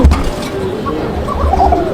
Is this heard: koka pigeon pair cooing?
yes